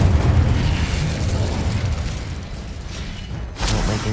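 Incendio fire spell blasts in the video game Hogwarts Legacy, with loud rumbling explosive bursts and a roaring wash, then a sharp new blast near the end, heard alone without talk.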